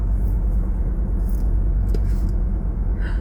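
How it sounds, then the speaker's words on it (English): A car engine drones loudly and steadily up close, a heavy low rumble filling the whole stretch with no talking. "This car does rev up its engine like loud."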